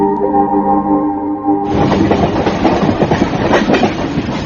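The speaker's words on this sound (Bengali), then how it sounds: "বড় একটা স্টেশনে গাড়ি বদল করে ছোট একটি ব্রাঞ্চ লাইনের ট্রেনে চড়লাম।" A small branch-line train runs along the track with a steady, loud clickety-clack of wheels over rail joints, preceded by a brief tonal hum before the rolling rhythm takes over.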